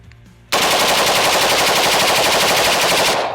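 An M16A1 fires one long, sustained automatic burst, loud and close, with rapid evenly spaced shots running for nearly three seconds before cutting off.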